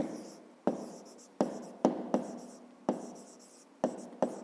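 Pen writing on paper in a maths exercise book, a series of about seven sharp taps and scratchy strokes at uneven intervals, quiet and close.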